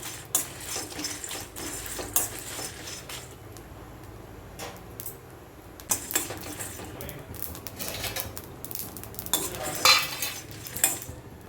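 Fenugreek seeds dry-roasting in a pan for tamarind rice, with scattered metal scrapes and clinks of a spoon stirring against the pan over a low steady background.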